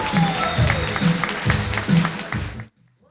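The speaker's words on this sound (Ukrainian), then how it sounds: "голосніші аплодисменти." Audience applause at an anniversary concert of a historical ballroom dance club in Poltava, dense clapping with a faint voice underneath, cutting off abruptly near the end.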